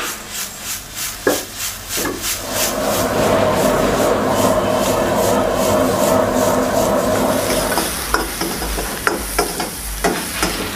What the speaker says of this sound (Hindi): अब इसको सौते करेंगे।